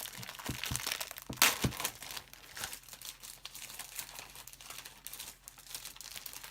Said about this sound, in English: It comes sealed in the packet, so we're just going to rip that open real quick.